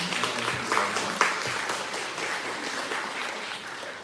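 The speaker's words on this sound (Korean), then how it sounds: "큰 박수로 축하해 주시면 감사하겠습니다" A congregation at a Sunday morning university church service applauds people standing in their seats, steady many-handed clapping heard from within the hall, a couple of louder claps up front, holding evenly throughout.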